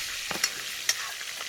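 Onion added to hot oil with cumin and asafoetida, frying for a Gujarati mung bean curry, with a soft steady sizzle and a few light scrapes of stirring in the pan, no talk.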